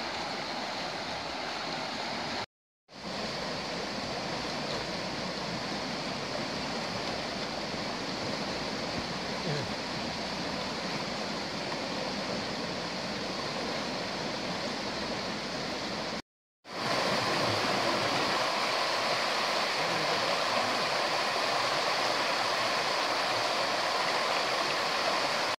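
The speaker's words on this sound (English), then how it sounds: "nice little drop of water going down here." Water rushes down a small drop in a park stream at Bryngarw, a steady broadband hiss and splash that runs nearly unbroken, briefly cut twice, then returns slightly louder.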